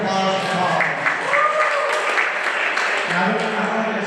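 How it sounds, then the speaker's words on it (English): Audience applause for Paul at a talk about fungi, a steady broadband clatter of clapping filling the whole stretch, with voices and cheering mixed in underneath. "Big round of applause for Paul."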